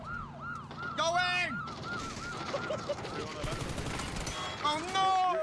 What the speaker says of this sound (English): Sirens on, baby.